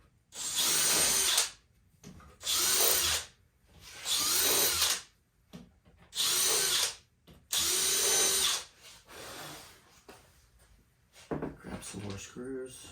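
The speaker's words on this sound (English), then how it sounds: "I'm just going to pre-drill through." A cordless drill pre-drills screw holes through a Festool MFT/3 extension jig in five sharp, whining bursts of about a second each, separated by short pauses, followed by quieter handling clatter and tool noise at the end.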